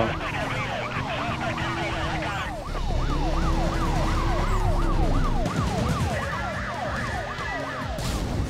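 Police car sirens wailing in a street race in Need for Speed Most Wanted, a rapid rising-and-falling yelp that repeats steadily and loudly over a low engine roar throughout.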